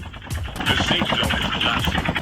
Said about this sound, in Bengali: ও তো ফায়ার করা শুরু করে দিছে